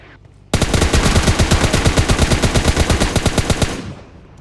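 Automatic rifle fire from an M416 and AKM in PUBG Mobile Lite rings out as one loud, sustained burst of rapid evenly spaced shots lasting about three seconds, starting abruptly and then stopping.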